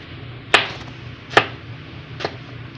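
Garlic being cut with a knife on a board while cooking tilapia paksiw, heard as three sharp, separate chops about a second apart, the last one softer, over quiet room noise.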